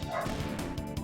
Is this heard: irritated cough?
no